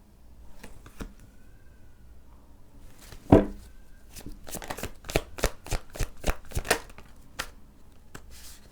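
A deck of tarot cards is riffled and shuffled on a table, a quick run of crisp snapping flicks after a single louder slap, close and clear with no talking.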